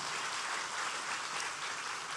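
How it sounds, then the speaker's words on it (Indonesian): A church congregation applauds in a sustained, even wash of clapping, moderately distant and fairly soft, for its whole brief length with no talk over it. "Tepuk tangannya bisa lebih hebat dari ini dong."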